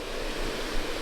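A steady, full-bodied rush of falling water at the top of a waterfall at Pipestone National Monument, a continuous close roar with no breaks.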